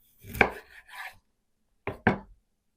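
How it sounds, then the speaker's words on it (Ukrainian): A knife chops mackerel into thick skewer-sized pieces on a board, a few sharp, close cuts in two short bursts separated by silence. "нарізаємо шматочками приблизно, як ми робимо шашлики, то трошечки товстішимо"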